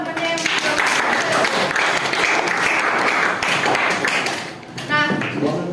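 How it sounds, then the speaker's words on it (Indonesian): Classroom students clapping for classmates, dense steady applause filling most of the stretch, with a teacher's voice briefly heard near the end. "Tepuk tangan dulu buat temennya"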